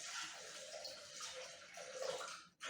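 Water pours steadily into a Thermomix bowl, about 500 g for cooking potatoes for aligot, a continuous close splashing stream with no talk that cuts off abruptly at the end.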